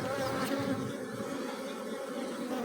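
Honeybees buzz steadily around a hive's newly emerged queen, a dense, continuous hum close to the microphone with no talk over it.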